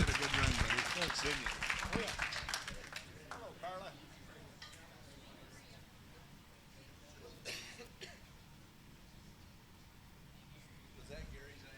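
Student auction at an auctioneering college: an audience gives a short round of clapping for an auctioneer from Casper, Wyoming. The applause is strongest at the start and fades within a few seconds, and a voice then speaks over a quiet room.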